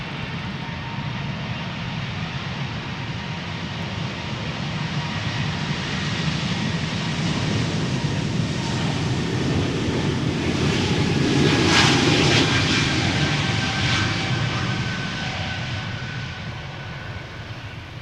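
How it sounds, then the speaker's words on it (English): A Delta Airbus A330 with CF6 engines approaches Schiphol Airport, its broad engine roar and whine swelling slowly to a loud peak overhead before easing off, with no talk. "I am hearing an approaching airplane. CF6s unmistakably."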